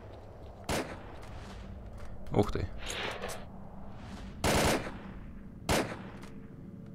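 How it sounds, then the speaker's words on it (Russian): Gunfire in the S.T.A.L.K.E.R. video game: several sharp separate shots, some close and loud, others in short bursts, spaced over a few seconds, with someone briefly speaking over them. "Так, там слышны выстрелы какие-то."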